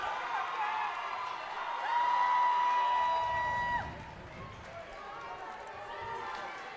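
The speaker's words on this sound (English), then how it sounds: "West Side gets a big cheer." A high school gym crowd at a boys basketball district tournament lets out whoops and sustained shouts of cheering, swelling for a couple of seconds and then settling into a softer, distant murmur.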